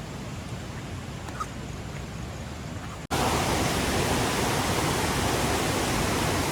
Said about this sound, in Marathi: किती उंचावरून खाली पाणी पडतं बघा